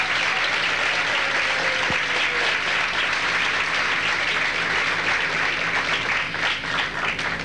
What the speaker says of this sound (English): I'd really like to have a round of applause for the five finalists